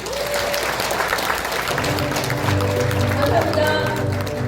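An audience at a seminar event applauds in a sustained, even wash of clapping, joined partway through by a low humming tone and background voices.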